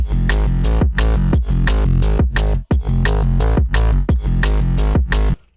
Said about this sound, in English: get some cool bass pitch movement